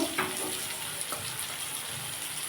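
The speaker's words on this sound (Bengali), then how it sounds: "আমার পেঁয়াজটা অনেকটাই ভাজা হয়ে গেছে আমি এর মধ্যে একটু সামান্য চিনি দিয়ে দেবো রং হওয়ার জন্য" Sliced onions fry in a pan after a pinch of sugar goes in for colour, a steady close sizzle and crackle with occasional faint scrapes of stirring, no talking over it.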